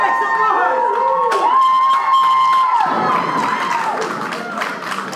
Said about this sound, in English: Getting the crowd riled up here.